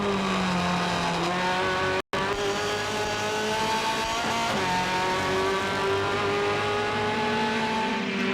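On-board sound of a Formula Ford race car engine at full throttle, a loud continuous buzzing drone with rising and falling revs through gear changes, broken by one brief dropout, no talk.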